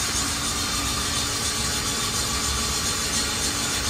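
A balancing machine spins a crankshaft at steady speed, a continuous dense mechanical whir and rattle, loud and close, with no voices.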